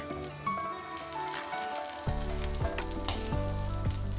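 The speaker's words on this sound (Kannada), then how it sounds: "ಈ ಎಲ್ಲ ಮಸಾಲೆಗಳನ್ನು ನಾವು ಲೋ ಫ್ಲೇಮ್ನಲ್ಲೇ ಫ್ರೈ ಮಾಡ್ಕೋಬೇಕು" Whole spices frying in oil in a pan over a low flame for a methi pulav, a steady sizzle throughout that thickens and grows louder about halfway, with a few light stirring scrapes and no voices.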